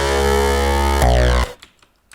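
A Nexus synth patch with its mid to high frequencies cut gives a thick, buzzing Reese-style bass that holds, shifts pitch about a second in, then cuts off abruptly into near silence.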